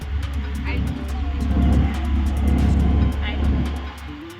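An auto rickshaw ride along a Delhi road heading toward India Gate, a steady low engine rumble and road noise from inside the vehicle, with faint clicks and passing traffic and people talking over it.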